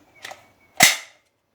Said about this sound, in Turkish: Bu aşamada tenceremin ağzını kapatıyorum.